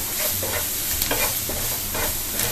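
Coriander powder is stirred into a spiced potato samosa filling in a hot pan: repeated scraping strokes of the spoon over a constant close sizzle, no talking.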